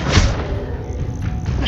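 A Confringo spell cast in Hogwarts Legacy lands as a deep blast: a heavy thud opens and a rumbling boom carries on underneath for the rest of the moment.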